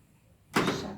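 A door in a classroom swings shut midway through with a soft whooshing thud, then a brief rattle follows, after a quiet moment of room tone.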